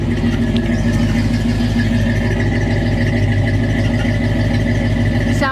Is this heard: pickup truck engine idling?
yes